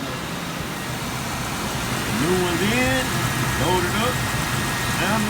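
A 2005 Lincoln Aviator 4.6L engine with new spark plugs idles steadily nearby, a low, even hum under a person talking.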